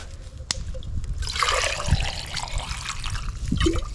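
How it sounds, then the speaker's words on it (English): Water pours steadily into a small metal nesting cup holding two pieces of corn, with a bright, trickling splash and a few knocks, close by, outdoors. "fill this up with water"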